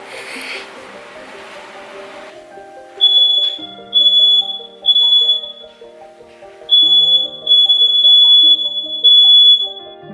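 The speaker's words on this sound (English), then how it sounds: "it set off the fire alarms" A smoke or fire alarm, tripped when a heater switched on after months unused, sounds indoors in loud, piercing repeated beeps in groups, starting after a brief noisy burst.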